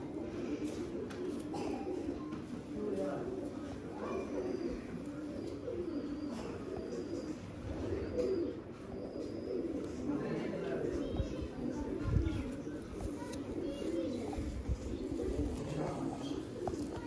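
Pigeons cooing at a pigeon seller's loft, soft continuous low murmuring coos from several birds, faint and steady throughout, with someone talking over them.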